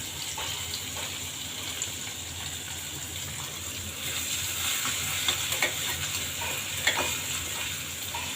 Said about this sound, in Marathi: आता तेलामध्ये आपण हिरवी मिरची, लसूण आणि जिरे यांचं वाटण आहे, हे परतून घ्यायचं